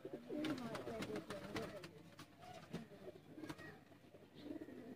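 Pure teddy pigeons coo softly and repeatedly in a loft, low throaty calls overlapping with scattered clicks and light background noise.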